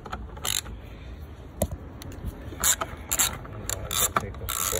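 A ratchet turns a 13mm socket on an extension to remove a bolt under a VW Golf Mk7, with irregular clicking bursts and scraping at close range, no talking.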